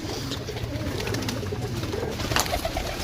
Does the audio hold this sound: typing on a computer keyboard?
no